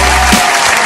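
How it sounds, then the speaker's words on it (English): A short, dense burst of audience applause and clapping at a live talk show, loud and close, filling the whole moment without pause. "Let's clap it up."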